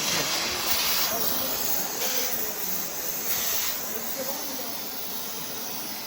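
An oxy-fuel gas torch cutting metal gives a steady, loud roaring hiss with brief surges of brighter spray, continuous and close throughout.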